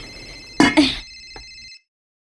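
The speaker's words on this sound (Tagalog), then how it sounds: "Hain naman ito nagtingog na cellphone." A cellphone rings with a short electronic tone over a faint background buzz, brief and close, before cutting to silence.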